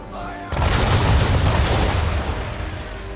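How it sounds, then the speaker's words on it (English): Ship cannons firing a broadside in Assassin's Creed 3, a sudden heavy boom that swells into a sustained rumbling roar of cannon fire, loud and dense, fading slightly toward the end. "fire a broadside"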